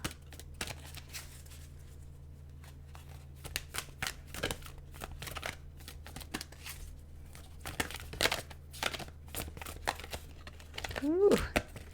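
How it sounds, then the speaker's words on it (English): Tarot cards riffled and shuffled in repeated bursts, close by, with light papery crinkling and a brief voice sound near the end. "these cards are kind of hard for me to shuffle"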